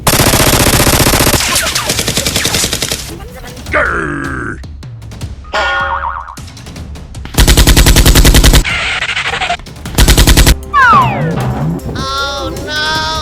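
Toy Nerf blasters fire during a staged attack on a crime group: loud, rapid volleys come in separate bursts, broken by grunts, groans and other shifting sounds.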